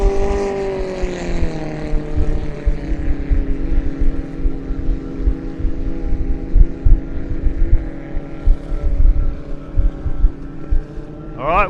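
1.6 litre hydroplane racing boats head out onto the course at a powerboat club event at Glenmaggie: a loud, droning engine roar whose pitch slides and then holds steady, with a faint voice in the background.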